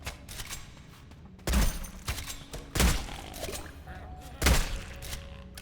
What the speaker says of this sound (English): I like using this shotgun way too much.